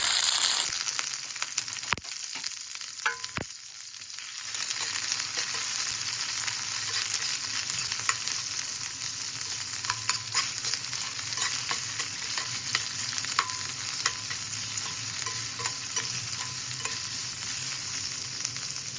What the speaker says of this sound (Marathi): पॅनमध्ये मी आता तेल ओतते तेल आता तापलेलं आहे त्यात आता आपण हा कांदा घालूया